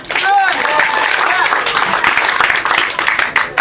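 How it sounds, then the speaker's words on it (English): An audience at a Sunday afternoon lime applauding a contestant, a dense run of clapping mixed with shouts and voices, loud and continuous throughout. "Claps and noise for contestant number 1."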